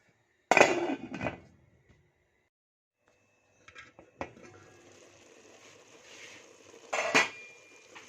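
A lid is set on a cooking pot of tomato and spice sauce, making a sharp metallic clank followed by softer clinks and a later second clatter, fairly close in a quiet kitchen.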